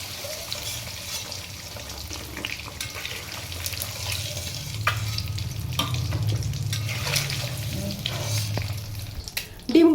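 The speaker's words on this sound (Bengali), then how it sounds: "ডিমটাকে আমরা একটুখানি হালকা করে ভেজে নেব, একদম বেশি ব্রাউন করব না।" Eggs frying lightly in oil in a pan for chicken biryani, a soft continuous sizzle with occasional scraping clicks that swells slightly midway, close and alone.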